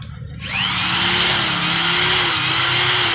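A cordless drill spins up after a brief quiet start and runs steadily at high speed in regular drilling mode, with a continuous loud whine and a faint pitch wobble, heard close and alone.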